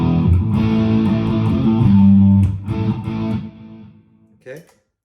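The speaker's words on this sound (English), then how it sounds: "Now this is 3A Brit 800 drive." Electric guitar through a Mooer GE150 Plus Li on its Brit 800 drive amp model, playing a few loud, gritty chords that ring and then fade out, with a brief faint noise at the end.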